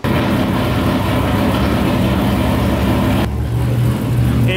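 An LS3 V8 swapped into a Mazda Miata, with a leaking flange, runs with a loud, steady low engine drone that cuts sharply to a lower idle rumble partway through.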